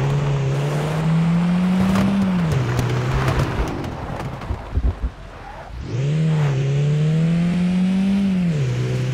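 A car engine drones steadily in the survival horror game Beware, its pitch rising and falling with acceleration, briefly dipping and rumbling midway before climbing back to a sustained, fairly loud hum with no talking.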